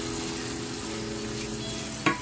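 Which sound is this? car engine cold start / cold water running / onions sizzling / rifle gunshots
onions sizzling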